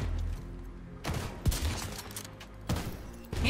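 Sniper rifle fire in the video game Division 2: about four sharp, loud shots spaced irregularly over a few seconds, each with a short booming tail, and no talking.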